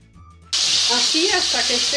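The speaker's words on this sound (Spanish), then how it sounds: "Ahora iremos dorando un poco los trocitos de conejo." Rabbit pieces hit hot olive oil in a pot with a sudden loud sizzle that continues as a steady frying crackle, with some faint stirring and background voice.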